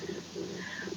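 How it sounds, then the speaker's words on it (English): A phone alert styled as birdsong gives a faint, brief burst of soft cooing, pigeon-like notes, three quick pulses heard alone with no talk. "Sorry, we got just a burst of bird there."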